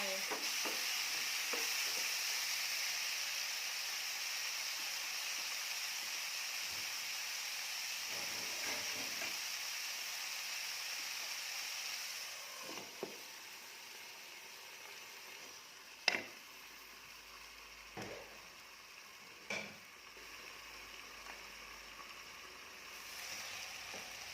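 Eggplant stir-frying in a pan for a vegetarian dish, a steady soft sizzle and hiss with occasional scraping stirs and sharp clinks of a utensil against the pan, close and continuous with no voices.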